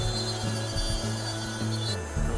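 A gypsum dental die being trimmed with a rotary tool, giving a loud continuous grinding rasp over a motor whine that dips and surges as the cutter meets the stone, close up with no talking.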